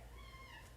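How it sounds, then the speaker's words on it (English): A house cat gives a single short, drawn-out meow, fairly faint and close, with no talking over it. "I need to stop my cat from making too much noise."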